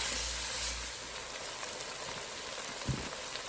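Beef frying in oil inside a Ninja Speedi, a steady bright sizzle and hiss like light rain, with a couple of soft low knocks near the end.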